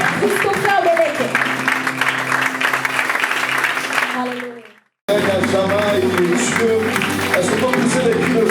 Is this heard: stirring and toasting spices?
no